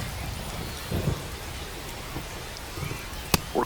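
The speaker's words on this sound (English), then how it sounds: "We're coming right up against it with the way this rain is coming down" Steady rain pours down in the baseball video game MLB The Show 25, a dense continuous hiss with a few soft low rumbles and one sharp crackle near the end.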